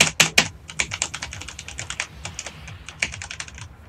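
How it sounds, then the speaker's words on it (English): A clicky computer keyboard is typed on in rapid, close bursts of sharp keystrokes, dense at first and again near the end, during a Fortnite solos match, with no talking. "Y'all like that clicky keyboard?"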